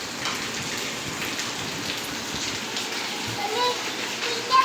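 Steady rain falls on a village, a dense, even patter of drops close by that keeps going throughout, with a voice faintly underneath.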